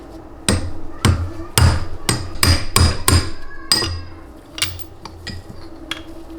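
Sharp metallic hammer blows tap a 13 mm socket through a Honda CRF450 dirt bike engine during a teardown. About a dozen loud, close strikes come in an uneven rhythm, with a quick run in the middle and lighter taps toward the end.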